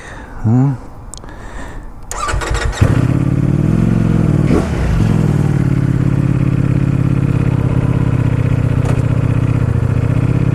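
A Ducati Panigale V4 sportbike's engine fires up after a few clicks and clatters, then settles into a loud, steady, throbbing idle close by.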